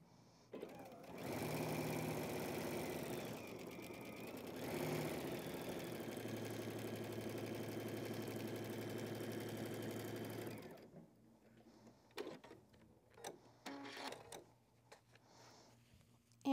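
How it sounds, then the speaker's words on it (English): A home sewing machine stitches a fabric strip onto a pieced triangle, whirring in two quick bursts and then one sustained run, followed by quiet handling clicks and small taps. "So I'll stitch this last strip onto the bottom of my triangle."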